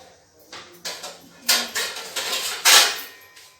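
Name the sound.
pan being put into cooker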